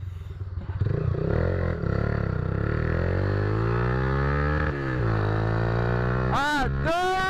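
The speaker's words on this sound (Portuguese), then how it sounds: "Eu não sei se eu vou aguentar ficar com muito tempo esse escape." A motorcycle with a loud aluminium exhaust drones in a steady, close, heavy roar with a slight rise in pitch, and a voice cuts in near the end.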